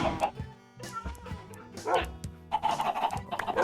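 Several tamed dogs in Minecraft, on a survival server, bark and yip in quick bursts close by, with some talking mixed in.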